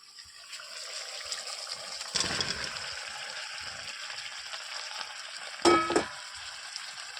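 Egg, fried potato and capsicum are sautéed together in a pan, giving a soft, steady sizzle with two brief, louder scrapes and splashes of stirring.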